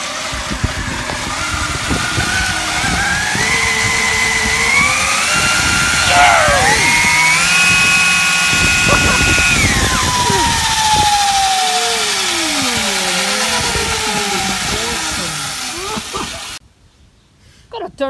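DIY triple-motor electric bike with a 42,000 W drive being throttled up, giving a loud, close electric whine that climbs and sweeps in pitch over many seconds before cutting off, with people talking underneath.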